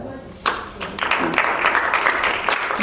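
An audience at a theater festival prize distribution bursts into loud applause after a quiet moment, then the dense clapping continues steadily to the end.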